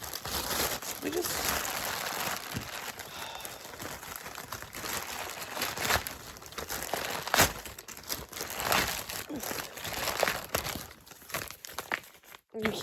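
Plastic crinkles and crumples continuously up close, with occasional sharper tearing sounds and rustling handling throughout.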